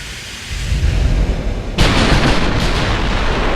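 Battleship main-gun salvos in a naval warfare game, a loud rumbling barrage with a sudden heavy boom partway through, followed by sustained thundering roar and a further report.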